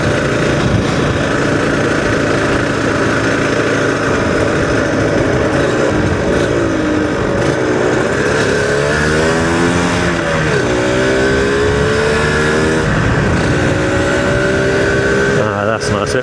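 A track motorcycle engine revs hard and continuously at close range, its pitch sweeping up and down in repeated throttle blips, with a person talking over it.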